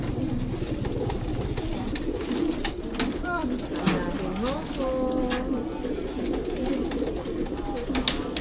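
Pigeons cooing in soft repeated phrases beneath steady background noise and nearby chatter.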